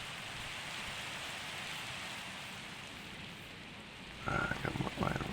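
Steady soft rain in Minecraft, a faint even patter across the whole stretch, with a few brief brighter clicks and tones cutting in near the end.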